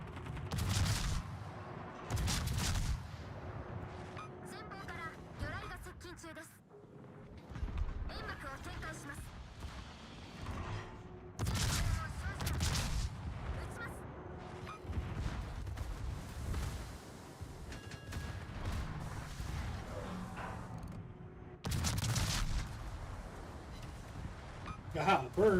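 Naval gunfire in World of Warships, with heavy booming salvos and rumbling blasts recurring every few seconds at close range, layered under continuous game audio and a talking voice.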